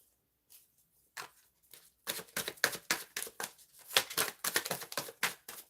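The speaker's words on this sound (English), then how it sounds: "So I was shuffling the deck" A deck of tarot cards is shuffled close by, with sparse soft flicks at first building into quick, dense runs of papery riffling and slapping cards, with no talking.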